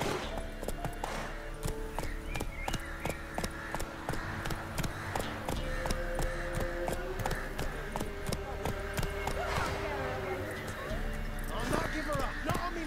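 Hooves clip-clop in a steady galloping rhythm from a horse in The Witcher 3: Wild Hunt, running continuously under game music and a voice talking, with a brief whinny-like sound mixed in.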